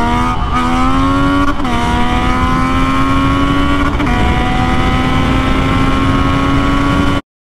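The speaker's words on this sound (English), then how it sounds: "obviously it's a smaller motor, still makes the inline 3 noise" Triumph Daytona 675 inline-three motorcycle engine running steadily for about seven seconds, a loud, close, continuous drone whose pitch holds nearly level with slight dips, then cuts off abruptly.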